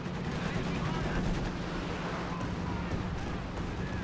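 Howitzer and artillery barrage in the World War II strategy game Company of Heroes 2, a dense, continuous rumble of distant gunfire and explosions blending into a steady roar throughout.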